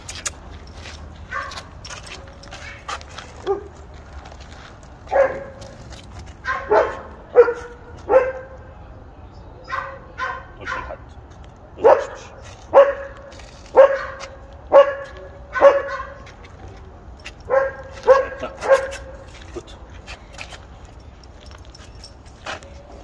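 A dog barks in short repeated bursts during a training session, each bark sharp and fairly close, spaced irregularly with a few quieter whimpers and yips in between and no talk over it.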